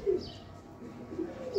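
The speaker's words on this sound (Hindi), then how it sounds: "एक ये बड़ा कबूतर है ब्रीडर बीच में" A large Golden Kamagar breeder pigeon gives soft, low coos, a couple of brief faint calls at the start and end over quiet background noise.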